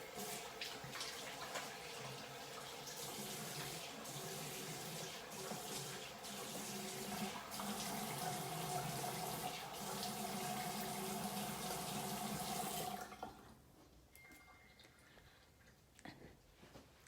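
A bathroom tap runs steadily as a face is washed, a close, continuous hiss with splashing for about thirteen seconds before the flow is shut off, leaving faint handling sounds.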